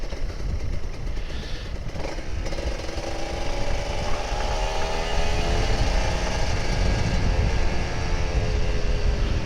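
Kawasaki Ninja RR 150 motorcycle engine at full throttle, a loud, steady buzzing roar with rising harmonic whine that builds in intensity, heard alone without talk.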